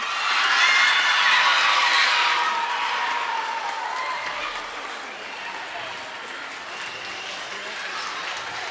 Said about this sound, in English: Let's have one more round of applause for all of our November winners.